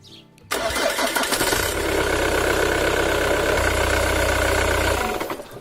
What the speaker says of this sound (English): Then put the filler cap back on and turn over the engine for a while.